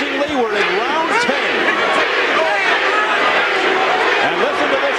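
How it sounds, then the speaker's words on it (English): Boxing arena crowd during a heavyweight bout, a loud continuous wash of massed voices with rising chant-like swells, close and dense throughout. "And listen to this crowd turning"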